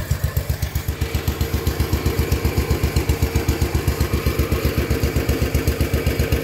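A 1974 John Deere 140 H3 garden tractor engine runs close by with a fast, even putter of regular pulses, loud and continuous with no talk over it.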